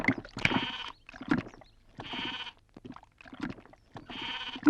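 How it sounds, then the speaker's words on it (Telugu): A goat bleats in three loud, wavering calls spread across a few seconds, with short breathy gaps and faint background sounds between them. "మేక నమ్ముకురమ్మని పంపిస్తే మరిది గారు మళ్ళీ వెనక్కి తెచ్చారెందుకో?"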